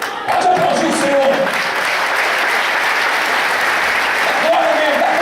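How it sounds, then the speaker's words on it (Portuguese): A church congregation bursts into sustained, dense applause that fills the room steadily for several seconds, with voices cheering and calling out under the clapping. "Pode aplaudir o Senhor."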